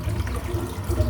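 Water running into a sink as a shavette razor is rinsed during a head shave, a steady close splashing flow with no talk.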